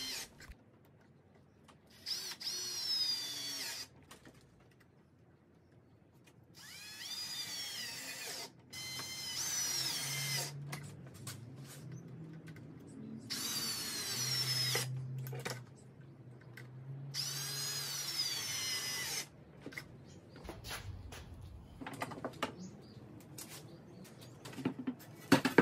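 A standard power drill set to low speed drives screws into timber while building a flip-top bench cart, sounding in several separate whirring bursts with quiet pauses and handling noise between them.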